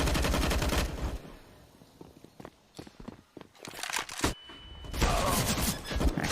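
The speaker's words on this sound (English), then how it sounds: "fires in with the SMG" Counter-Strike SMG fire on the Inferno map during a pro match, with sharp rapid shots and scattered clicks and footsteps in a quieter middle stretch framed by louder busy stretches of game sound.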